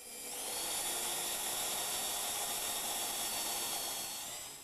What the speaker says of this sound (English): drill some pilot holes to keep the wood from splitting